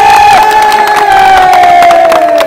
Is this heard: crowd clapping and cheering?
yes